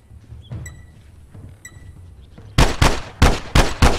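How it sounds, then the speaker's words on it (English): Loud, close gunfire and blasts in The Last of Us multiplayer, a rapid string of five or six sharp bursts after quieter game ambience with faint distant shots. "Explosions everywhere."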